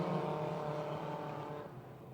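Race cars at Motordrome Speedway run three and four wide through the pack, their engines forming a steady, loud, sustained roar that eases slightly toward the end.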